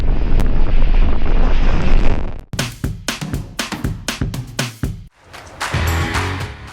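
Strong wind buffeting a sailboat at sea, a loud continuous roar that breaks into choppy gusts and flapping bursts before a rushing swell returns, with no voices.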